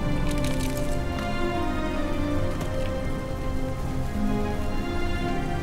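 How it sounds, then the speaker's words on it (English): Steady rain in The Elder Scrolls IV: Oblivion, a dense, even hiss of falling drops that runs loud and unbroken throughout with no other sounds. "we're soaking wet under this rain"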